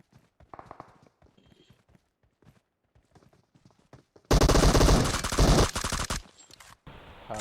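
Rapid automatic gunfire erupts in a video game match, a loud dense burst lasting about two seconds after quieter clicks and footsteps.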